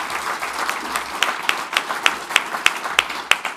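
An audience at a CFAES awards ceremony applauds steadily, many hands clapping in a dense patter with a few sharper, regular claps standing out near the listener.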